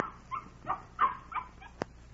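A dog taken out of a crate gives a series of short yips and barks, four or five quick bursts followed by a sharp click, fairly faint and with no speech over it.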